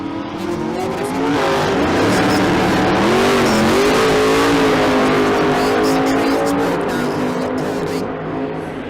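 A drag race car at the Street Car Super Nationals in Las Vegas roars loudly down the strip, its engine note wavering as the driver pedals the throttle, with an announcer talking over it.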